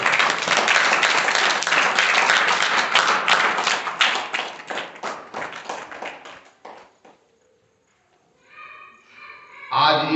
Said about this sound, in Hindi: हमेशा की तरह जोरदार तालियों से करें।